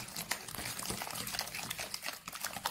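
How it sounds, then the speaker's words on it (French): Broken eggs are whisked with sugar in a bowl, giving a close, quick wet clatter and sloshing that repeats in an irregular rhythm, with no voices. "j'ai cassé mes œufs et on va mélanger avec le sucre"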